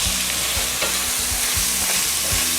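Vegetarian curry sizzles in a pan with a splash of extra virgin olive oil while being stirred, a steady close frying hiss punctuated by regular scraping thumps from the spoon.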